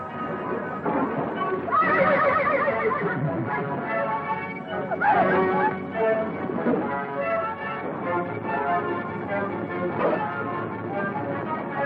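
Horses in a 1934 Western river-crossing scene neigh and whinny repeatedly, loud and close, over clattering hooves and shouted voices, with a bell-like ringing mixed into the commotion.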